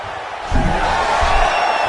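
A crowd in the UFC 5 video game swells into a loud, roaring cheer halfway through, a dense wash of arena noise that stays strong to the end.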